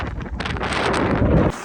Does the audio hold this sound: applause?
no